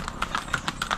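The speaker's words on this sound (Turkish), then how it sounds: "Atlar çıkıyorlar da beni ürkütüyorlar ya." Horse hooves clopping on a road in Guatape, Colombia: quick, regular clip-clop beats of a walking horse, fairly close and alone for about a second.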